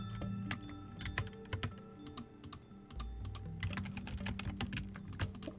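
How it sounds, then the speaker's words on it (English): Rapid, crisp clicks from a clicky computer keyboard, typed in uneven bursts close to the mic during a calm Minecraft vanilla playthrough, with a low steady game hum underneath and no talking. "I love how clicky my keyboard is."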